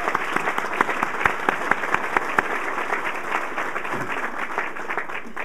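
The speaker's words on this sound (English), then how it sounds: "we should at least applaud Judge Lobaugh for his good work." Audience clapping at a legislators' citation ceremony honoring a judge, a full steady wash of applause with a few distinct nearby claps popping out early before it settles evenly.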